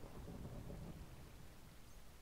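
Minecraft thunder rolls as a steady, low, faint rumble with a rain-like hiss across the whole span and no voices.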